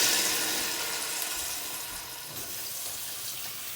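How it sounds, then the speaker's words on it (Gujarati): Water pours into a pot of Gujarati dhokli, a continuous splashing rush that is loudest at the start and eases slightly as it goes on, heard close and alone. "અને હવે આપણે જે પ્રમાણે રસાવાળું કરવું હોય એ પ્રમાણે આપણે પાણી રેડીશું અંદર"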